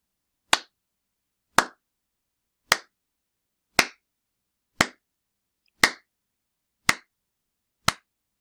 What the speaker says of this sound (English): Listen and count how many claps I have.